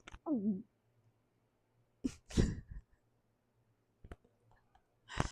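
A single close sneeze bursts out after a short breathy lead-in, surrounded by quiet with a few small clicks and a throat noise.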